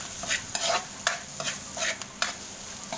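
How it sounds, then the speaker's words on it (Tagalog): A spoon stirs sautéed mung bean stew with smoked fish in a pan, giving a series of close scraping strokes, about seven in three seconds, over a soft steady sizzle. "Halo lang ng halo"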